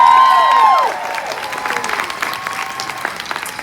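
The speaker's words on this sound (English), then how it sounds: "let's give our nationals another big round of applause" Audience applause fills a large conference hall at a Mary Kay career conference, steady dense clapping that starts louder over a sustained tone and then settles into a broad, even round.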